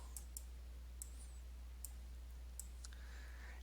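Computer mouse clicks during a dice-based drift simulation, about six sharp, isolated clicks at irregular intervals over a quiet steady hum.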